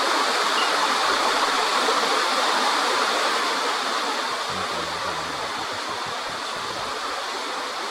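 A raging torrent of fast-running water roars on as a dense, unbroken rush, close and loud throughout, with no voices.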